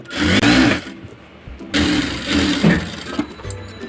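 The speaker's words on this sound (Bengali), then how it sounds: "আমি নিচের সেলাইটা দিতেছি, এই সেলাইটা কাঁচা সেলাই দিয়ে নিতেছি" Sewing machine running a loose basting seam on a salwar pant, loud close whirring in two bursts with a dip between, motor rumble and needle rattle throughout.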